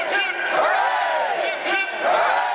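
A crowd at a protest against Act 10 at the Capitol in February 2011 chants a rousing hip-hip cheer, many voices shouting together in loud, sustained bursts with no pause.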